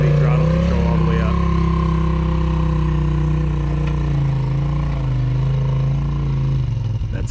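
A Polaris RZR Turbo S engine holds a loud, steady droning note as it climbs trail steps on sand and rock, pitch shifting slightly with throttle, with a voice over it.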